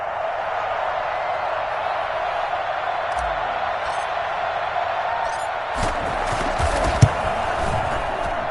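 Stadium crowd in an American football video game roars steadily after a big Packers play against the Rams, a broad sustained din that swells louder near the end with a sharp thump.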